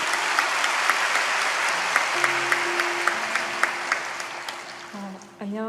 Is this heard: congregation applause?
yes